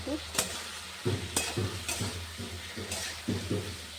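Chilli paste and turmeric masala fry in a pan for a fish curry, giving a steady close sizzle broken by repeated scraping strokes of a spoon stirring the thick paste.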